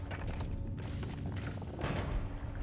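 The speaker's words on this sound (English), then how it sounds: "we throw a bomb" A bomb goes off in the pixel-physics game Noita, blasting apart a destructible vault of rusted metal: dense rumbling booms and crackling debris run continuously and loudly, swelling again near the end, with no talk over it.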